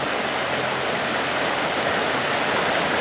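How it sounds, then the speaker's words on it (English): Water rushes steadily through a sluice box set in a creek, carrying material down the riffles in a loud, close, continuous broadband wash with no voices. "See the material moving on down through the sluice there."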